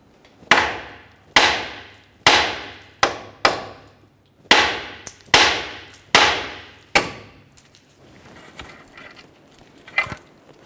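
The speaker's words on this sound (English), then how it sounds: "give it a couple loving bonks with a hammer just to cause some vibration" Nine sharp metallic hammer strikes ring out on the steering knuckle of a 2012-2018 Nissan Altima in an uneven rhythm, each with a short ringing decay, followed by faint clattering.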